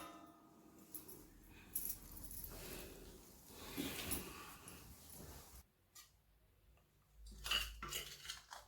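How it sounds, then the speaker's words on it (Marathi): Metal clatters as a lid is set on a cooking pot, with a few clinks and scrapes against a low background hum, then a final louder clank. "याच्यावर आपण आता हे झाकण ठेवूया"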